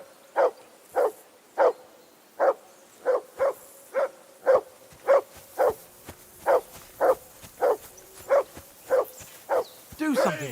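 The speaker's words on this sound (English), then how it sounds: "Do something with that mutt, Henry." A dog barks in the medieval video game Kingdom Come: Deliverance 2, about eighteen evenly spaced sharp barks, close and clear against a quiet background.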